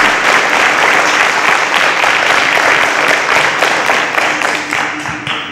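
Loud applause from a studio audience greets semi-finalists of a national science competition, a thick continuous clatter of clapping that holds steady and begins to thin toward the end.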